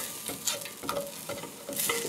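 Spices are stirred into hot oil in a soup pot for a curried carrot soup. A utensil scrapes and swirls in repeated strokes over a steady sizzle, close and clear.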